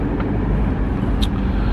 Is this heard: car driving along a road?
yes